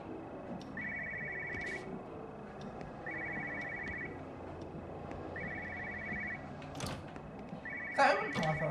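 Telephone ringing in the video game Everybody's Gone to Rapture, four evenly spaced electronic ring bursts with pauses between, followed by a brief louder clatter at the end, over faint ambient background.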